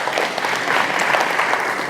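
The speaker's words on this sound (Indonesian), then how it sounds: "Tepuk tangan untuk Jawa Timur." Audience at an East Java mosque awards gathering clapping, a loud, close, continuous burst of many hands that stays even from start to finish.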